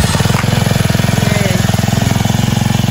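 A Kubota TMS200 tiller engine running steadily right after a pull start, with a loud, close, rapid single-cylinder chug throbbing evenly throughout.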